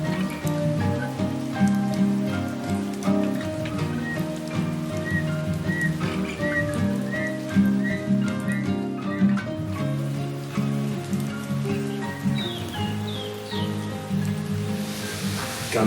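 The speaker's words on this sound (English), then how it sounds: "It's still raining." Steady rain falls in a forest at Magoebaskloof, a constant patter on surfaces mixed with bright bird calls and whistles, with dense dripping heard up close.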